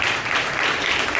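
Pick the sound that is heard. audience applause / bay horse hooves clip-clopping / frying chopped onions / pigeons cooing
audience applause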